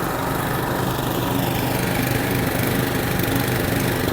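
A Briggs & Stratton Classic lawn mower engine runs steadily and loudly close by, holding a constant, even drone for the whole stretch with no voices over it.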